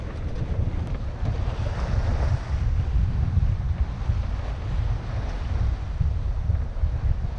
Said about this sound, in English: 20 knots of wind